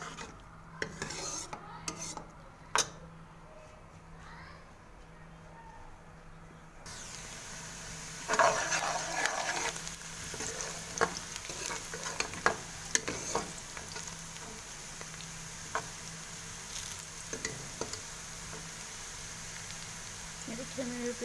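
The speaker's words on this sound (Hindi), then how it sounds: "देखिए मेरी प्याज इसमें फ्राई हो रही है और लाइट ब्राउन होने वाली है।" Chopped onions fry in a pan toward light brown for malai aloo gobi. A soft sizzle grows louder partway through, with spatula scrapes and scattered utensil clinks.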